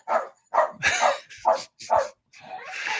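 A dog barks close by in a rapid series of about six sharp barks, each short and loud, with a longer yelping bark at the end; no speech.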